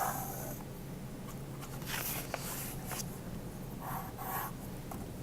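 Crayon or pencil tracing around a paper crayon template laid on a sheet of paper, giving soft, steady scratchy strokes in several short bursts, close and quiet, with no talking.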